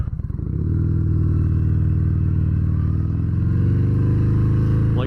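A 2019 Harley-Davidson Fat Bob 114 motorcycle engine idles with a deep, loud, steady throb that swells as the throttle opens, its low rumble filling the clip close to the microphone with no talking.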